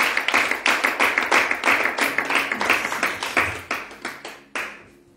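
A church congregation claps in rhythmic acclamation of Jesus Christ during an evangelist's evening service, a dense run of sharp handclaps that carries steadily and then thins toward the end.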